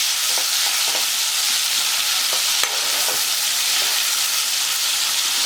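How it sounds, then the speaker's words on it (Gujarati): Tomato and chili stirred into a hot tempering with asafoetida in a pan, giving a steady close sizzle and hiss with soft scraping strokes of the spoon, no talk. "એક ટામેટું અને મરચું છે તમારે ઉમેરી દેવાનું છે અને આપણે હલાવી લેવાનું છે."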